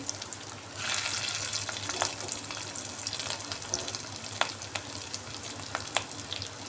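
Rohu fish roe fritters sizzle in hot oil, a crackling hiss that swells after the first second and carries on with scattered sharp pops, fairly quiet and close, no talking.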